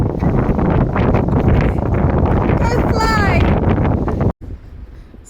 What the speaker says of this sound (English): apologies in advance for where it's hard to hear us speaking over the noise from the wind